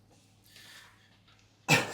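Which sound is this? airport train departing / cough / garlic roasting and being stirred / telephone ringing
cough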